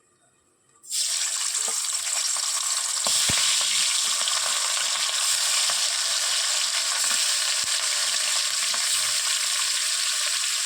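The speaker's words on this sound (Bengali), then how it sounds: "এবার দেখো, আমি মাছটা ভাজা বসিয়ে দিচ্ছি।" Fish frying in a home kitchen pan, a loud steady hiss of hot oil that bursts in suddenly after a quiet start and then sizzles on continuously with a few faint pops and clicks.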